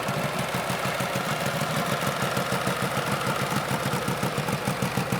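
A 1948 Harley-Davidson Panhead motorcycle idles on its first start in years, a close, loud, steady uneven thumping of the old V-twin with a continuous exhaust rumble and no talking.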